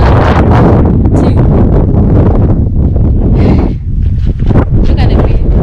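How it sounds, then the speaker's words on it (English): Strong wind roars and buffets the microphone at a roadside stop on the drive from Windhoek to Sossusvlei in Namibia, a loud, continuous rumbling gust throughout. "the wind is massive as well"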